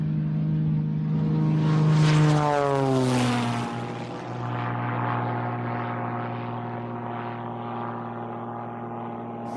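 A light propeller airplane drones steadily in cruise flight, its engine harmonics sliding and shifting pitch partway through as the aircraft pitches up, a loud continuous close-up roar with no talking.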